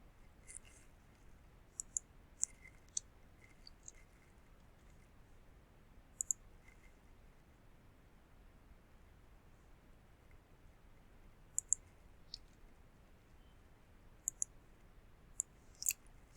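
Sparse, quiet computer mouse clicks while a link is opened in a browser during a Django tutorial, single and double clicks spaced irregularly over near silence.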